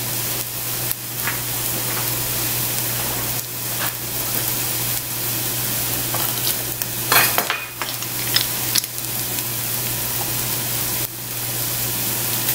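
Two big cloves of pressed garlic fry in a pot for chicken kreplach soup, a continuous close sizzle with occasional clinks and stirring scrapes and a brief louder clatter midway.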